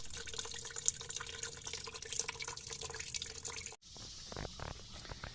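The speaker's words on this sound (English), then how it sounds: "I also have the coolant draining." Coolant draining from a Chevy Colorado during a thermostat replacement, a steady close trickle and drip of liquid running continuously, briefly cut off near the end before resuming.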